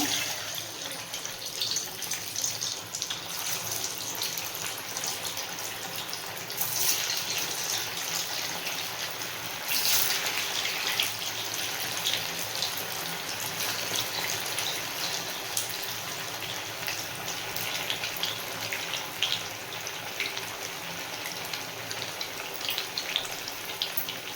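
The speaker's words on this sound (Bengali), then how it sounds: "তেলটা হালকা গরম হয়ে গেছে এই সময় একটা একটা করে নিয়ে ছেড়ে দেবো" Chira (flattened rice) cutlets slipped one by one into lightly heated oil and frying, giving a steady, even sizzle and crackle that runs through the whole stretch with no one talking.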